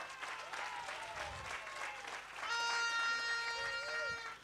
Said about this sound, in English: Can we please give our Deputy Chief Whip in Parliament, Mr. Jacques Julius, another round of applause.